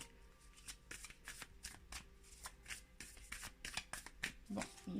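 Tarot cards are shuffled by hand, up close, in a continuous stream of quick, riffling flicks and soft slaps that carry on without pause and without speech.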